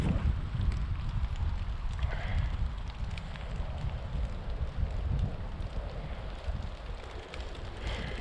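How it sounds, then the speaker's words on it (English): Wind blows steadily across a hiking trail, a constant low rumbling buffet against the microphone that covers the whole stretch with no pauses. "You enjoying that wind?"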